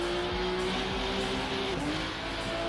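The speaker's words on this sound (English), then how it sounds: "This Porsche really does not sound very good on the outside, does it? Way too overly distorted." Porsche race car engine in the Rennsport racing game, heard from an outside view as a steady, heavily distorted drone with shifting engine tones, close and continuous with no voices.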